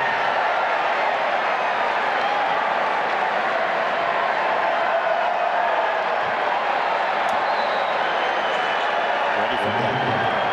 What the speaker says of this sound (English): Well, fantastic atmosphere as you can hear.